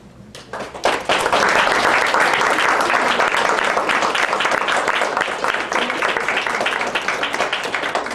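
Audience applause at a poetry reading swells in within the first second, then holds as a dense, loud wash of clapping that tapers slightly toward the end.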